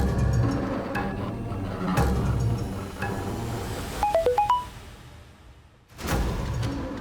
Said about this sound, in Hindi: किसका मोबाइल बजा?